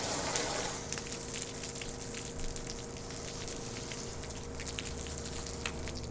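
A 24-volt Everflo soft wash skid sprayer jets water onto a building, a steady hissing spray with patter and a low pump hum running throughout.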